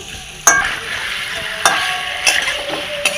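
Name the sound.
fried paneer added to a pan and stirred into curry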